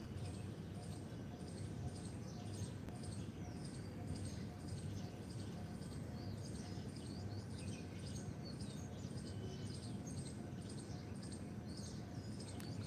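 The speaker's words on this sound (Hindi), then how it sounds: "पक्षियों की चहचहाट को सुनते हुए" Small birds chirp and tweet in repeated short calls at a steady distance throughout, layered over a constant low background hum during a quiet morning yoga session.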